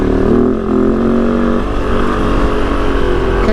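A 2023 Kove FSE 450 R Rally motorcycle works through tight, slippery turns, its engine a loud, close buzzing drone that shifts slightly with the throttle, with no talking.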